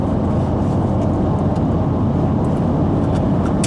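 A 2015 Chevy Silverado 1500 double cab pickup accelerating hard while towing a 1970 C10, heard from inside as a loud, continuous roar of engine and road noise with no speech.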